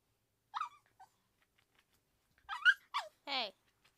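A dog whimpers in short, high, squeaky bursts with quiet gaps between them, close and fairly soft, and nobody speaks over it.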